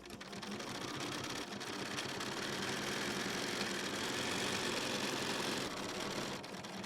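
Sewing machine running steadily while stitching a folded 2.5-inch quilt binding with a 1/4 inch seam on a faux chenille baby quilt, a close, continuous motor whir with rapid needle ticking that runs for several seconds, then stops.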